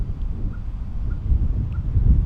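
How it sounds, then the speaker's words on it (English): Wind gusting across an open outdoor spot, a steady low rumbling buffet that swells slightly toward the end, with no voices. "It's rather windy here because we're out in the open"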